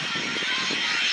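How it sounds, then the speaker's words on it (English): Thomas Cook airliner at Manchester Airport, a loud continuous engine roar filling the moment without a break. "that Thomas Cook aircraft signaled the end of the first half"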